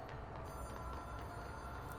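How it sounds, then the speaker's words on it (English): Hotline telephone ringing in the video game Control, a faint, steady bell-like ring heard alone under a dense game ambience. "And I hear the phone again."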